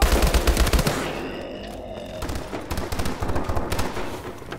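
HBR A3 rifle fire in Call of Duty: Advanced Warfare Exo Zombies, loud rapid automatic bursts up close. The bursts break off briefly and then resume in a rattling string of shots mixed with game noise.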